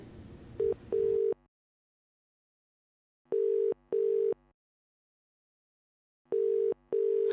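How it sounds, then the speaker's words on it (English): A telephone ringback tone on a call to a police department, sounding in paired bursts, three double rings separated by silence, clear and electronic. "Ringing the police department."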